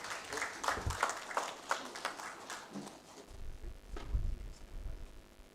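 An audience at the Redan 2023 annual general meeting claps, a steady, fairly soft wash of applause that fades out partway through and leaves a low room murmur.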